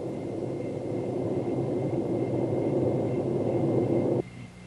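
A small OH-6 light helicopter in flight makes a continuous whooshing rumble with a faint steady whine, then drops abruptly to a quieter hum near the end.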